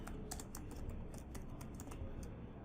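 Quiet, rapid typing on a computer keyboard while writing ASP.NET Core MVC code, a dense run of soft key clicks over a faint low background hum, with no voices.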